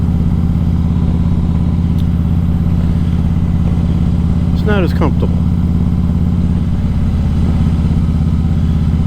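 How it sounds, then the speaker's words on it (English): A Harley-Davidson motorcycle engine drones low and steady from inside a helmet, a loud resonant rumble with a faint rise in pitch midway, while someone talks over it. "the sound of the motorcycle kind of resonates up inside the helmet, and it's actually louder inside here"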